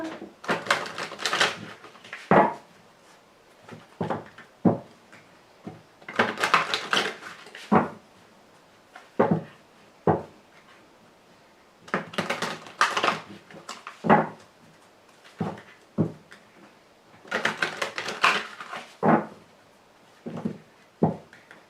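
Tarot cards riffle and slap in repeated bursts of close shuffling, each followed by lighter taps as cards are cut and set down, in a steady cycle roughly every five seconds.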